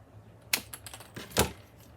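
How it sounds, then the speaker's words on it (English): Two sharp, close snips as a plastic straw is cut into small pieces, each a brief crisp click separated by a short pause in a quiet room. "So we're gonna cut the straw."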